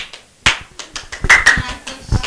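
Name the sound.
class clapping hands for presenting group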